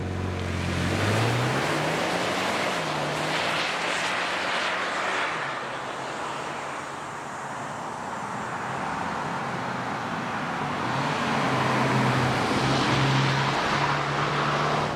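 A Ford Maverick Lobo pickup truck drives on the road, its engine rising through the gears over steady road and wind noise heard from inside the cabin.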